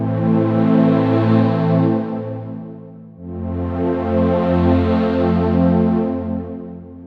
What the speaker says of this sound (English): So I'm using a pad here in a synthesizer without reverb.